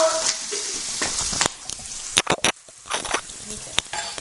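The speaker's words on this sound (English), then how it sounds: "So, you got done browning that yet?" Meat browns in a soup pot, a soft continuous frying sizzle with scattered sharp clatters and knocks of utensils and a lid, heard up close.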